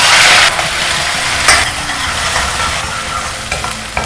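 Red ground masala paste hits hot oil with crushed garlic in a pan for fish curry. It produces a loud, steady, close sizzle and spatter that runs throughout, with a brief burst at the start.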